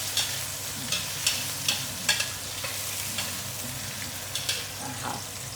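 Chicken and bell pepper stir-frying in lard in a pan, a continuous sizzle broken by regular scraping clacks of the spatula, close and steady with no talk.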